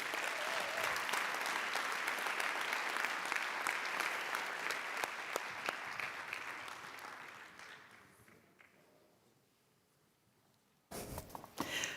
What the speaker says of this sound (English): Please, a massive round of applause for Sarah Herrlinger